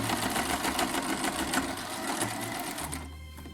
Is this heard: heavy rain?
no